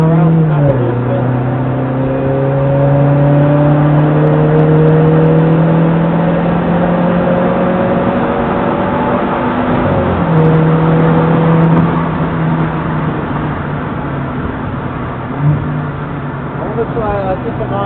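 A car powers hard out of a corner on the Brands Hatch Indy circuit, engine note rising steadily and loud for the whole stretch, with a brief dip and gear change partway through.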